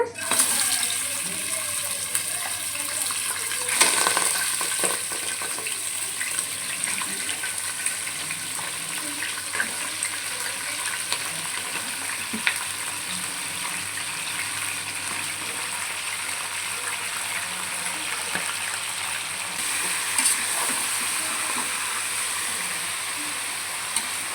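A steady sizzling hiss of chicken, country chicken for sambar, frying in six to seven spoons of hot oil runs throughout, with a few brief louder crackling surges.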